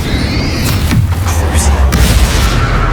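An explosive spell cast in Hogwarts Legacy, a loud booming blast with crackling impacts, heard close and over a dense game battle din, with voices shouting during the fight.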